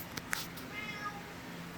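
A pet cat gives a faint, short meow indoors, with a couple of small clicks before it and quiet room tone around it.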